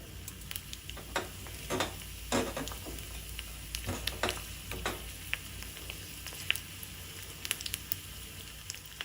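Mustard seeds and cumin crackle in hot oil for a tempering, a soft sizzling bed broken by frequent sharp pops and spits at irregular intervals, fairly quiet and with no talking.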